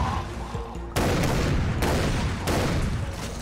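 Shotgun blasts in the first-person shooter Far Cry 3: Blood Dragon, three heavy booming shots spaced about a second apart, loud and close over a dense background of game noise.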